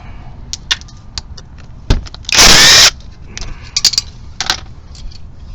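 A power tool briefly spins out M10 triple square bolts on an MK5 GTI engine, one loud burst of whirring in a garage among scattered metallic clinks and taps.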